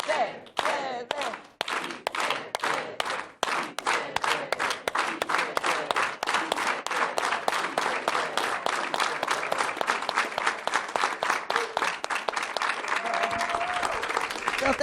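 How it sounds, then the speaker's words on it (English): An audience at a keynote speech claps in unison: sharp, evenly spaced group hand claps that gradually speed up into a fast, dense rhythmic beat, loud and sustained, with faint voices underneath. "we're going to clap and do an organized hand clap"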